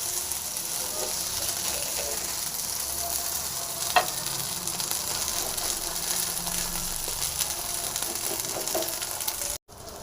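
Big brinjal masala cooking on a dosa tawa, a continuous even sizzle with one brief sharp knock midway and a sudden cutoff near the end, steady and close, with no talking.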